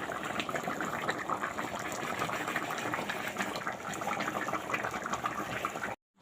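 Hot water gushes steadily into a simmering meat curry, a continuous close splashing, bubbling pour that stops abruptly just before the end.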